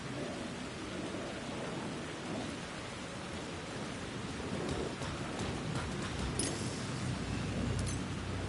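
Dense, steady downpour of rain over a city in the game Alan Wake 2, a constant hiss with faint distant rumbles, no voices.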